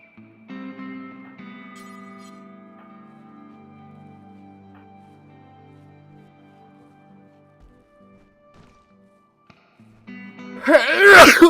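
A single loud, sharp sneeze bursts out near the end after a stretch of quiet, steady tones, up close and alone.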